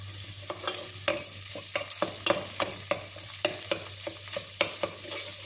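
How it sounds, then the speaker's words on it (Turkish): Tomato paste and crushed garlic frying in oil in a pot, a steady soft sizzle broken by repeated sharp scraping clicks of stirring, close and fairly quiet with no talking. "Şimdi salçam kavrulacak."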